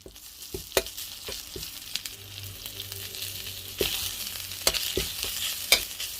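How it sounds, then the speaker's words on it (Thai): Red curry paste fried in a pan for Thai spicy stir-fried eel, with a steady sizzle and scattered spoon-stirring knocks against the pan throughout, close up and with no talking. "คนให้มันหอมแล้วก็ตามด้วยปลาไหลเลยนะครับ"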